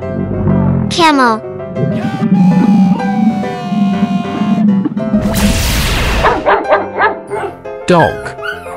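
A dog barks in a 3D animal slide video game, a few yips and bow-wows cutting through cheerful game music and sound effects, with a short whoosh in the middle.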